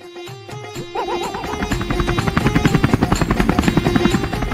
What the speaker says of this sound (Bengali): হেলিকপ্টার দিয়ে বক্তা আইতাছে ওয়াজ মাহফিল করতে